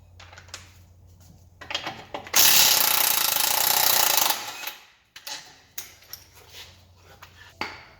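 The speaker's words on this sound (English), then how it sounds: "you can get a impact gun on the other end of that" An impact gun works a bolt on the rear subframe of an Alfa Romeo 147, 156 or GT, one loud, rattling burst of about two seconds, surrounded by quieter tool clatter and handling noises.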